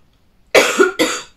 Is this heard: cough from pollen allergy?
yes